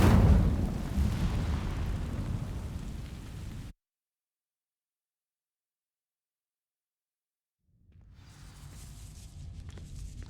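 An Incendio fire spell igniting dry vines in Hogwarts Legacy: a loud crackling, whooshing burst of flame that fades, then silence for several seconds, before a softer crackling rustle returns.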